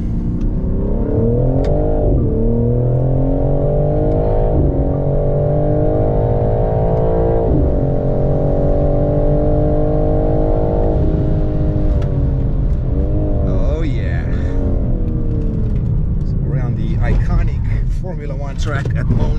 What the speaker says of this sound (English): it's going for a hot lap with Bruno Spengler